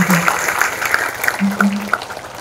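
Applause from a gathered crowd at a Hindu Javanese community event in Pringsewu, Lampung, welcoming visiting officials; scattered clapping sits under a speaker's voice over a PA, with a few sharp tonal accents standing out.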